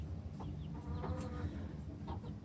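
Free-range hens cluck softly outdoors, a few short, scattered clucks and murmurs over a low background rumble, faint and fairly close.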